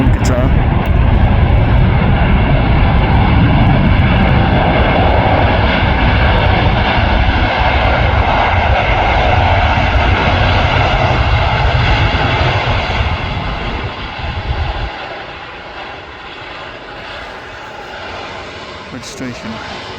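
An airliner takes off from the Manchester Airport runway, heard from the nearby visitor park as a loud, roaring engine thrust that holds steady and then fades as the aircraft climbs away, with people talking underneath.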